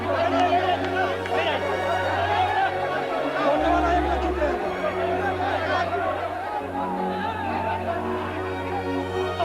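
Tense crowd of supporters gathered at Ayodhya, a steady wash of overlapping chatter and murmuring voices, fairly loud and unbroken, with a voice speaking over the crowd noise.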